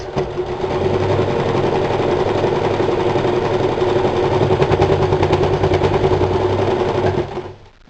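A sewing machine stitches an X through a fabric pot holder on a holiday apron, running loud and continuous with a fast, even rattle for about seven seconds before winding down.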